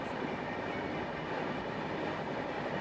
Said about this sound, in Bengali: চিলিকা হ্রদ পেরিয়ে কিছুটা এগিয়ে ট্রেন থামল ব্রহ্মপুর স্টেশনে।